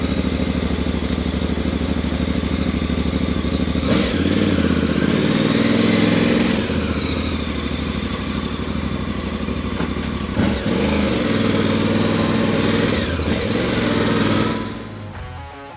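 A Voge DS625X motorcycle engine runs steadily and loud up close, a dense rumbling drone with slight swells, holding for about fifteen seconds before cutting off abruptly at the end.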